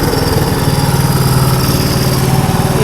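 A Honda three-wheeler engine idles steadily and close after a carburetor change, a loud, even, rapid putter with no voices over it.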